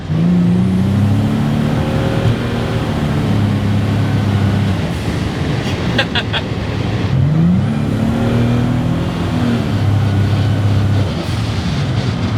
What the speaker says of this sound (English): I love the blow-off valve.